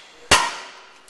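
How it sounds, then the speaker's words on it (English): A single sharp metallic strike of a hammer on an impact screwdriver, used to loosen a brake rotor screw, rings out, then fades over about a second with no other sounds around it. "Basically, this is a hammer screwdriver."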